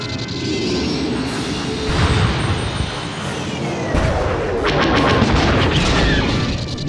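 Starfighter weapons firing in a Star Wars space battle, with rumbling booms and blasts over a dense, roaring engine wash. Loud and continuous, without talk.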